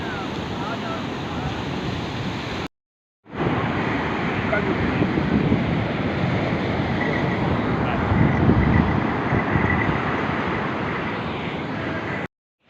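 Surf and wind at Mypadu beach in Nellore, a steady broadband rush of breaking waves with gusting wind noise across the microphone, loud and continuous, briefly cut out near the start and end.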